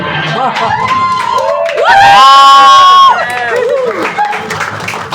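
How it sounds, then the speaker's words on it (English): Audience at a live comedy show, evening double-feature stand-up, bursting into loud applause and cheering with whoops, swelling to a peak in the middle then easing back, with voices mixed through the crowd noise. "Please give a big round of applause."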